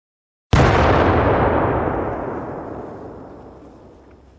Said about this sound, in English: The cannon itself was rolled out into the open, and an explosion rent the air as a round of metal shrapnel was fired